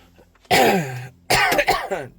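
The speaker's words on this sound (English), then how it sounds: "Sorry about the coughing." A person coughs hard in two bursts, a single harsh cough and then a rougher cluster of throat-clearing hacks after a brief quiet pause, close to the mic.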